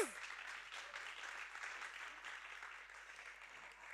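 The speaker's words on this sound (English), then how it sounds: "Let's give a round of Welcome. applause." An audience at an arts equity talk welcomes speaker Abid Hussain with continuous, even applause, many hands clapping at a moderate distance for several seconds.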